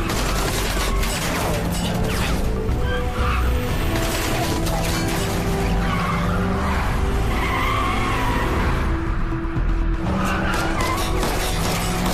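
A car skids hard during a chase scene, loud sustained tire squeal and engine roar layered with dense action-film noise and clatter, continuous and close throughout.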